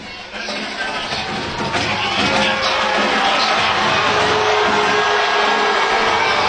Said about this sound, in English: you hear the booing of the crowd